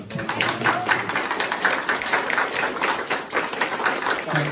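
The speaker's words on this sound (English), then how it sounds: "Could we give them a round of applause?" Audience applause after a panel discussion, a steady wash of many hands clapping at moderate distance, filling the room evenly throughout with no voices on top.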